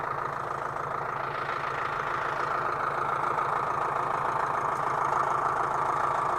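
An Ursus farm tractor engine runs steadily at close range, a continuous even drone for the whole stretch with no talk.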